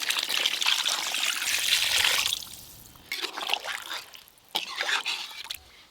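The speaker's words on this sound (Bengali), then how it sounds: "এবার জল দিয়ে দেবো।" Water pours into a pot of spiced mutton and fried potatoes being cooked into a thin curry, a steady splashing stream that pauses, then resumes in shorter gurgling bursts.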